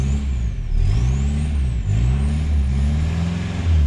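A VW Golf 3 GT 110 engine runs with a straight-pipe, open exhaust, giving a loud, steady low rumble with slight rises and dips in revs and a faint high whine above it.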